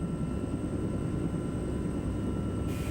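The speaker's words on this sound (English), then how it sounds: "Major Mickleby makes the critical decision to bring in the troop helicopters." A troop helicopter flies in a military setting, a steady low rotor and engine drone that stays loud and even throughout, alone with no voices.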